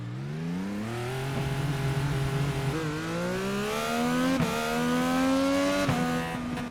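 An IndyCar race car engine in the iRacing video game screams loudly and close, climbing in pitch through the gears with short breaks at each upshift, heard alone without talk.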